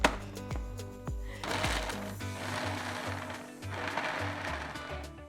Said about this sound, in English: So I'm using a food processor today